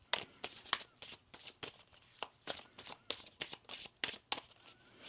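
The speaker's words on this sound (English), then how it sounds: "One more shuffle." Tarot cards are shuffled by hand in a run of crisp, rapid riffling bursts with short pauses between them, quiet and close, with no talk.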